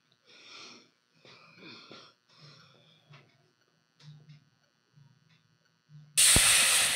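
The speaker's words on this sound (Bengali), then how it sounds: "সব কিছু দিয়ে মশলাটা ভালো করে কষিয়ে নেব" Onion, tomato, ginger-garlic paste, chilli powder, turmeric and salt are sautéed in a pan for a spinach fritter masala curry. Soft stirring sounds under talk give way to a sudden, loud, steady sizzle near the end.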